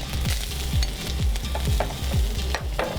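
Noodles with carrots stir-fry in a pan, giving a steady sizzle under a regular rhythm of about six scraping, tossing strokes, close and loud with no talking.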